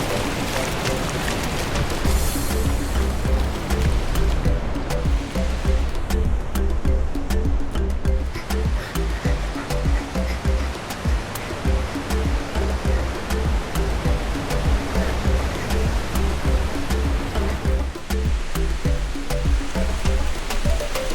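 Ocean surf breaking on a sandy beach at Winchester Bay dunes, a loud continuous roar of waves washing in steadily with no pauses, close and enveloping throughout.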